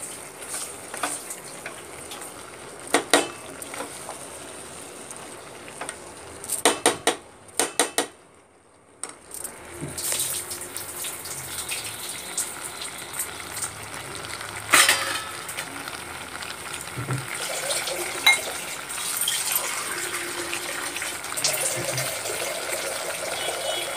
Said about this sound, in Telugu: గ్లాస్కి 2 గ్లాసులు వాటర్ పోసుకుందామండి